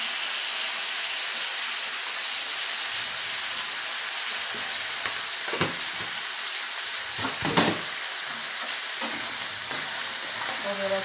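Brinjal and fish fry in a pan with a steady, bright sizzle and hiss, joined near the end by a few soft stirring scrapes.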